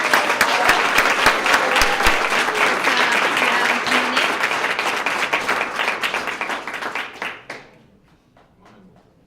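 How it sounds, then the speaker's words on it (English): A round of applause for new officers at a police department swearing-in ceremony, loud sustained clapping from a crowd that thins out and fades to a few last claps. "let's start off giving a round of applause to all the new officers"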